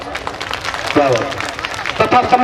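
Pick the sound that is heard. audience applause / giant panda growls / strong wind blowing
audience applause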